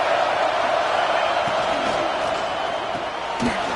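Stadium crowd roaring continuously at a Georgia vs Penn State college football game, a dense, loud wall of cheering and noise with occasional louder swells, while a commentator talks over it.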